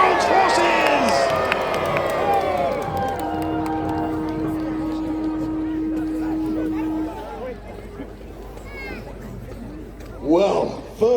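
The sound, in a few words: reenactment crowd cheering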